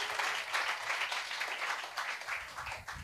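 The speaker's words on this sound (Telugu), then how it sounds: "ఇప్పుడు గొట్టు చప్పట్లు గట్టిగా." A church congregation claps in rhythmic bursts, a fairly dense crowd clapping steadily at moderate distance, sounding somewhat soft, with no speech over it.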